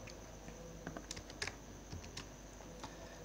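Typing on a computer keyboard while entering a formula in Excel, with soft, irregular keystrokes and a few sharper presses, close and quiet over a steady background hiss.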